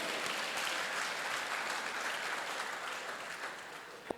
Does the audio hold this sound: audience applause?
yes